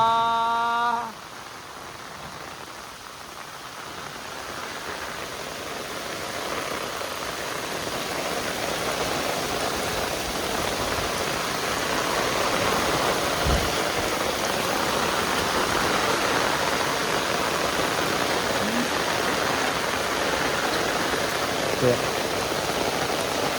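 Rain pours down as water streams into an overflowing pond, a constant broad rushing that builds gradually and stays steady, with a short voice at the very beginning and a faint knock midway.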